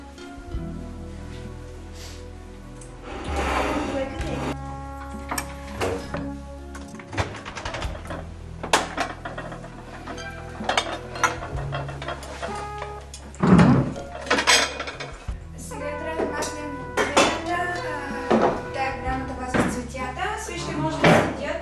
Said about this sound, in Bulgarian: да разчистим масата и да вземем да наредим чиники и вилички